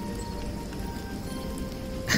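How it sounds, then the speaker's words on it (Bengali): Steady rain pours during a storm as a background effect for a Bengali village ghost story, a continuous dense hiss that swells briefly louder at the very end, with no voices. "আস্তে আস্তেই ঝড় বৃষ্টি শুরু হয়ে গেল"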